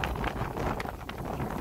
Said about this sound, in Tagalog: Uy, malakas talaga ang hangin.